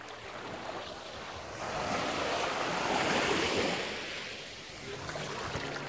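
Surf breaking on Oppenheimer Beach, St John, a steady broadband wash of waves that swells to a louder crest mid-way before easing, with some wind rumble on the microphone and no voices.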